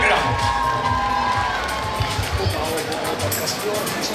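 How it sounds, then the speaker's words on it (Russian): Audience at a song club concert in a village hall applauding, a dense continuous wash of clapping with some crowd noise and voices mixed in, loud and sustained. "Ваши бурные аплодисменты открывают нашу вокальную программу."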